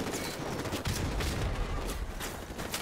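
Dense gunfire and explosions in the video game Call of Duty: Modern Warfare Remastered, a continuous loud barrage of overlapping shots and booming impacts.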